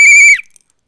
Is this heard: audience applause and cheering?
no